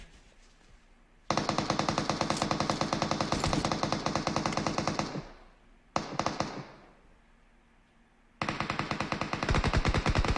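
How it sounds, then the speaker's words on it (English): Rapid automatic gunfire from PUBG Mobile crackles loud and dense in long bursts, breaking off briefly twice before resuming, with no talk over it. "Shots are going off from all angles"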